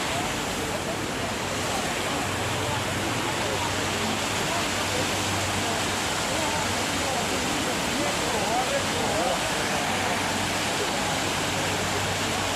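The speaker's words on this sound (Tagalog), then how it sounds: "lalapit tayo para mas makita natin yung bagsak ng tubig sa malapit" A waterfall in Nan Lian Garden, a Chinese classical garden in Diamond Hill, Hong Kong, gives a steady, loud, broadband rush of falling water. The roar holds unbroken throughout.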